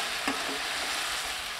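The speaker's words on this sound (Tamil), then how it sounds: "இப்போ காலிஃப்ளவர் பொறிச்சு வச்சதை சேர்த்து நல்லா கலந்து விட்டுக்கலாம்" Fried cauliflower is stirred into a boiling honey-chilli sauce, making a steady bubbling sizzle with a soft scrape of the spoon near the start. Nobody speaks.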